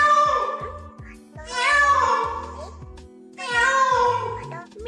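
A cat meows several times in long drawn-out cries, close and loud, with a steady low hum running beneath and no clear talk over the calls.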